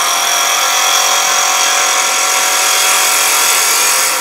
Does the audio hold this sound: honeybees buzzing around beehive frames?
no